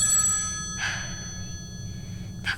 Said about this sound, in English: Just leave the phone alone. Don't pick it up. Just keep ringing.